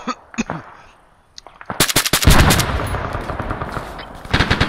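A machine gun fires in repeated sharp bursts, the shots loud and close, with rapid cracks clustering into a sustained volley before a final quick burst.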